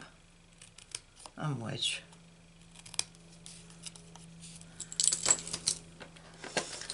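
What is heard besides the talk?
scissors cutting card stock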